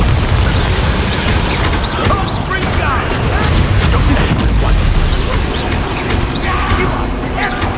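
Bombarda explosion spells burst during a Hogwarts Legacy battle, with loud, dense booms and crashes layered over continuous chaotic combat noise that never lets up.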